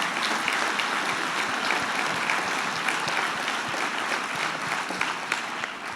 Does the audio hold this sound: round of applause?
yes